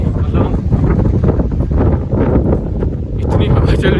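Strong wind buffets the microphone at a hill station near Chikhaldara, a loud, continuous roar with rising and falling gusts, with a voice faintly underneath.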